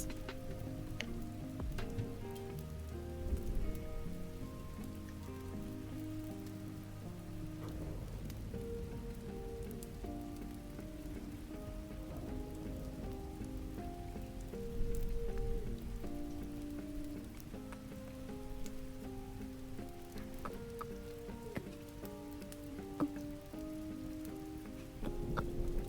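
Soft rain patters steadily on a surface as a game sound effect, gentle and continuous, sitting faintly beneath a layer of music with no one speaking.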